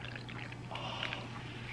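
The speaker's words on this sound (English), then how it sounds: "Quick pour." Kombucha poured quickly into a shot glass makes a soft, brief liquid splash and trickle over steady low background hum, faint and close.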